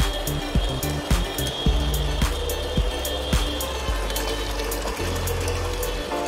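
Crompton Mini Star-2 water pump from 2006, restored, running and pushing water out after a loose suction line was fixed, a steady close hum with gushing flow and regular sharp clicks.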